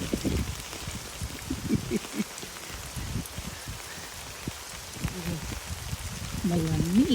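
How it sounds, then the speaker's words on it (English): Heavy rain pours down steadily outdoors in Reno, Nevada, a dense hiss of drops hitting surfaces, with people talking faintly through parts of it. "Oh, that's a lot of rain."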